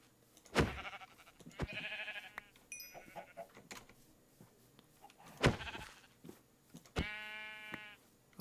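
Sheep in the video game Minecraft bleat several times, short wavering baas at irregular intervals mixed with other farm animal calls, close and clear with no talking.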